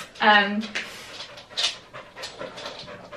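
A dog pants rapidly and close by, with a brief whimpering whine near the start.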